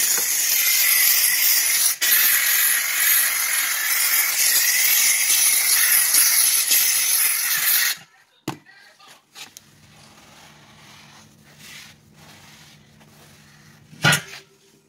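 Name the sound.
McCulloch 1385 steam cleaner steaming baseboards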